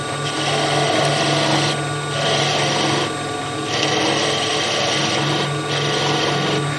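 A skew chisel's long point cuts wood on a spinning lathe, giving a steady rasping scrape in several long passes with short pauses between them, over a constant motor hum and no talk.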